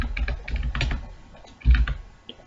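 C code being typed on a computer keyboard: close, quick bursts of key clicks in uneven runs, with a heavier thump of a larger key near the end; no talking.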